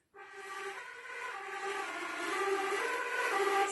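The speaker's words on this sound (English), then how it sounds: "Again, wind sound." A flute played with the breathy wind-sound technique gives one sustained, airy tone that starts abruptly, holds steady and swells slightly louder, heard alone up close.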